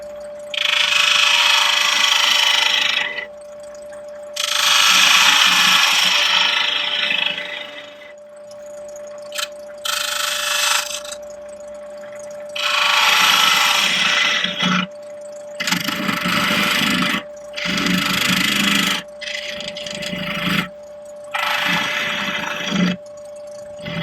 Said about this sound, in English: I'll do that using a spindle gouge as well.